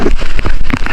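Rain pattering steadily on a slippery mountain trail during a wet hike, a dense, continuous close hiss with scattered crackling drops throughout.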